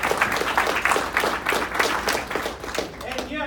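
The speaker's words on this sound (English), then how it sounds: "yes, we should applaud" Audience applause at a Freedoms Foundation community service award ceremony, a steady patter of many hands clapping at moderate loudness, mixed with some crowd noise.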